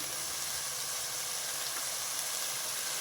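Gongura leaves for a pulao hit a hot pan, giving a steady, even sizzle and hiss of frying that holds at the same level throughout with no pauses.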